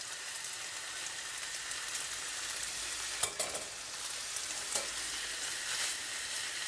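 Fish and rice for kedgeree being stirred in a sizzling pan, a steady close frying hiss with a couple of sharp utensil scrapes, no talking.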